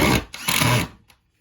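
A screw gun drives screws into kitchen woodwork in two short whirring bursts, close and loud, then falls silent.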